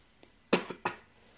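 A short indoor cough, a faint catch and then two rough bursts close together, with no talk over it.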